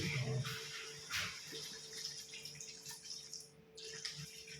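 Water is poured into a pan while cooking sweet and sour lapu-lapu, a brief faint splash with kitchen clatter around it.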